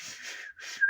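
A person whistles a sustained high note with a brief gap, then a rising tone, close and clear with no talking.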